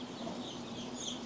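Soft clucking from chickens in a breeder brooder pen, a few brief calls over a constant low background hum.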